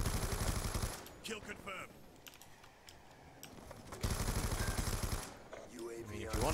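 Bursts of rapid Scorpion gunfire in a video game, two dense stretches of fast shots separated by a quieter gap with scattered clicks, while a game voice speaks briefly.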